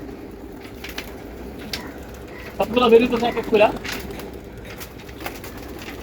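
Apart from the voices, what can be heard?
pigeons cooing in a loft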